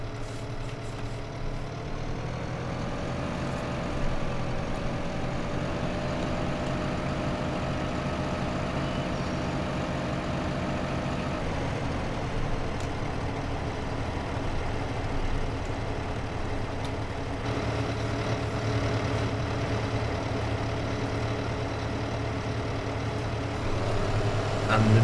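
A tractor engine runs steadily in Farming Simulator 2015, a continuous low, loud drone that holds its pitch with little change from start to finish.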